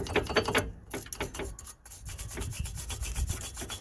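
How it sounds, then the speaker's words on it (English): A wire brush scrubs dust and debris from the brake pad seat on a Nissan Micra K13 front brake caliper, giving close, rapid, rhythmic scraping strokes that run steadily throughout. "Next thing we're gonna do is we're gonna clean the area where the brake pad's gonna sit"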